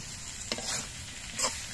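Soft boiled flat beans fry quietly in a pan with a faint sizzle, broken by two short stirring scrapes.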